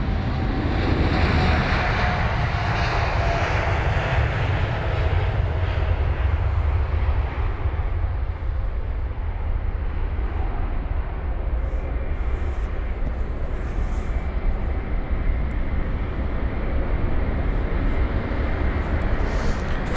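A Qantas Boeing 787-9 Dreamliner departs London Heathrow, its engines giving a loud, close, continuous roar that holds steady and powerful for the whole stretch, with no talk over it.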